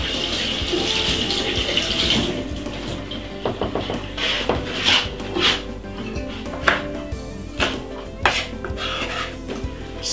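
Fresh Jamaican thyme rinsed under a running kitchen tap, a steady stream of water splashing into a sink with intermittent clinks and knocks of dishes, close and fairly loud.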